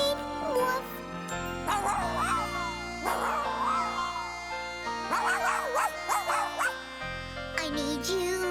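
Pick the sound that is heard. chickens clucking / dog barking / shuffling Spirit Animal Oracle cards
dog barking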